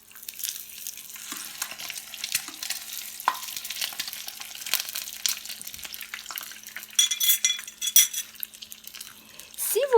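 Brik pastry fries in hot oil with a steady, close crackling sizzle and popping bursts throughout, joined by occasional clinks of kitchen utensils.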